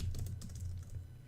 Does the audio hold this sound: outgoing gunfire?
no